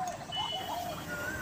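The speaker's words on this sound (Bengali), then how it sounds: "এই সময় কোকিলের মিষ্টি সুর শুনতে পাচ্ছেন তো আপনারা?" Koel (Asian cuckoo) song outdoors, a few faint rising whistled notes drifting over low background hum, fairly distant and unaccompanied by talk.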